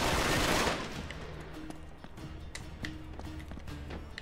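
Gunfire in the video game Uncharted 3: a burst of rapid shots up front, then scattered sharp reports and taps over a continuous game background.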